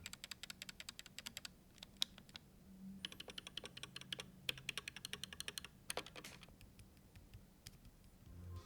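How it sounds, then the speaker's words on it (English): A mechanical keyboard's larger stabilized keys are lightly tapped, producing a close, crisp run of rapid, irregular ticking clicks that continues steadily with only short pauses. "one side of the larger keys produces a ticking noise when you lightly tap it"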